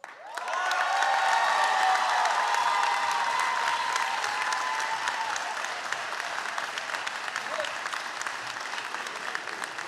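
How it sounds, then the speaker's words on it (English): Loud, sustained applause from an audience giving a standing ovation at a fire department recruit academy graduation ceremony, rising quickly and holding steady, with some faint crowd noise underneath. "So I'll give them a standing ovation."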